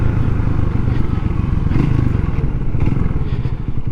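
A Honda CB250RS road motorcycle rides along a muddy green lane, its engine a continuous loud, close drone mixed with rattling and wind buffeting throughout.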